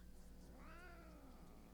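Mortimer, a cat in the game Lake, gives one rising, drawn-out meow, fairly faint over a steady low background hum.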